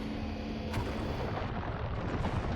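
An explosion in the video game Destroy All Humans! 2 rumbles as a dense, low, sustained blast with crackling debris, holding steady without a sharp attack, and no voices heard over it.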